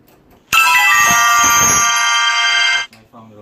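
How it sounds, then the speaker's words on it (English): A mobile phone rings loudly and steadily for over two seconds with a bright, tonal ringtone, near and alone, cutting off abruptly before faint background sound returns. "That's my phone going off."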